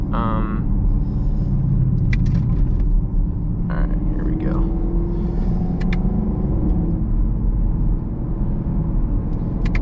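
A 2022 Chevrolet Camaro 2SS 1LE with a manual gearbox and its exhaust in track mode gives a steady, deep, loud engine and exhaust rumble from inside the cabin on a backroad drive, while someone speaks briefly over it.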